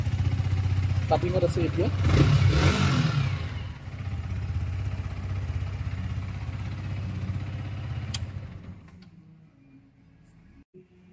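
A 2023 Yamaha R15 V4 second-hand motorcycle engine runs nearby with a steady low idle rumble, swelling briefly as if revved, then settling and fading to near silence; someone speaks over it.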